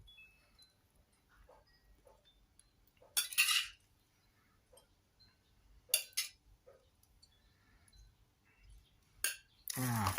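A utensil scrapes raw beef koi onto a plate, with several short bright scraping and clinking bursts of metal on ceramic separated by quiet pauses, plus faint handling noises.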